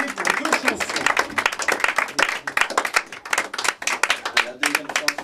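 Audience applause at a live concert performance, dense clapping throughout with scattered louder hand claps, steady and close.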